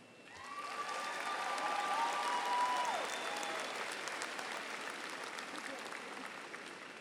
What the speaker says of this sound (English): Look to your friends and family in the stands and applaud them.